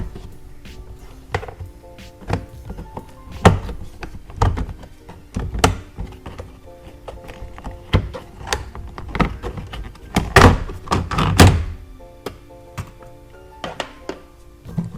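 Plastic door trim on an off-road explorer is pried loose with a trim tool, giving a series of sharp clicks, snaps and knocks at irregular intervals, close up, with louder pops clustered near the end.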